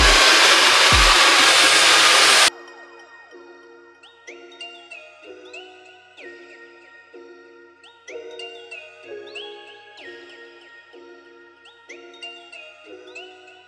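A hair dryer blows on the back of the hair in a loud, steady rush that cuts off after about two seconds, followed by tinkling, chime-like music.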